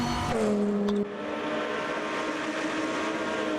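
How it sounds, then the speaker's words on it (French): Race cars in Automobilista 2 at the Long Beach street circuit drone loudly with steady engine tones, one car gearing down sharply early on while others are passed at close range. "Ah oui, on dépasse des voitures."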